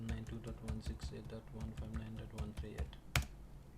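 Keys clack in quick bursts on a computer keyboard as an IP address is typed during Linux firewall setup, with a person speaking over the tapping and one louder key strike near the end.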